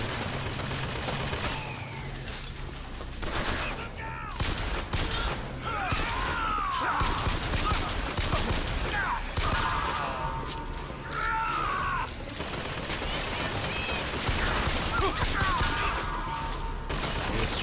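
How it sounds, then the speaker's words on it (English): Rapid turret gunfire from a mechanical turret in the video game Bioshock Infinite, with bursts of shots and impacts running through a dense, loud game soundscape of crashes and effects. "it's one of those damn machinery turrets"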